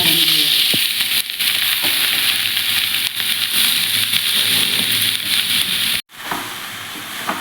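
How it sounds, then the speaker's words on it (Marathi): Grated carrot sautéing in ghee for carrot halwa gives a steady, close sizzle with stirring scrapes, broken by a brief drop to near silence before the frying resumes. "आता हे गाजर आपल्याला तुपावरती दोन ते तीन मिनिट साधारणतः परतून घ्यायचे आहे"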